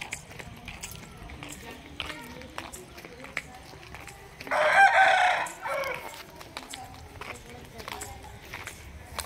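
A rooster crows once, loud and close, midway through a village rangoli contest in Sriramapuram, standing out over a steady background of murmuring voices and small clattering sounds.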